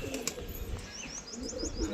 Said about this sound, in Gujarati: બધા કબૂતર છે આપણે